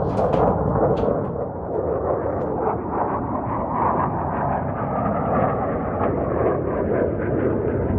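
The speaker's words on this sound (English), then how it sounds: "And well, there's one of the jets." A jet aircraft flies over, producing a loud, steady broadband roar that holds for the whole stretch with no talking.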